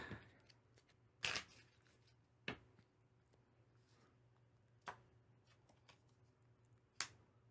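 Board game cards are shuffled during a solo Civolution session, giving a handful of crisp, snapping riffles spaced a second or two apart against a quiet room.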